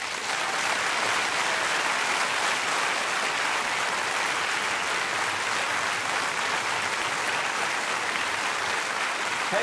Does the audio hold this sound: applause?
yes